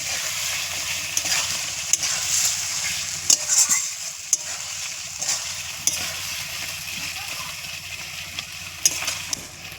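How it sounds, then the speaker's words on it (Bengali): Chicken curry stirred in a pot over a wood-fired stove right after the lid comes off, a steady sizzle beneath scattered scraping clicks of the utensil against the pot, close and moderately loud, with no voices. "আবার একটু নেড়ে নিচ্ছে ঢাকা খুলে"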